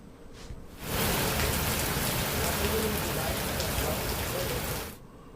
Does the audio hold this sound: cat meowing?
no